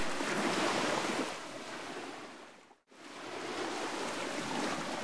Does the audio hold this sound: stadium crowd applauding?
no